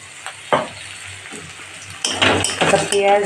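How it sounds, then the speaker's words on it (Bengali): Chopped onion frying in hot oil in a pan, a soft steady sizzle with a few clinks and scrapes of a utensil stirring, growing louder and busier toward the end; no one speaks. "দিয়ে তেলে ভাজা করছি, পেঁয়াজ কুচি।"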